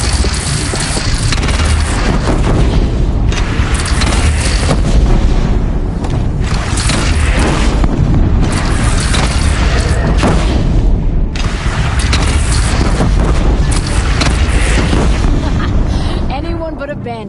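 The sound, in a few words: cannon fire booming in Horizon Zero Dawn video game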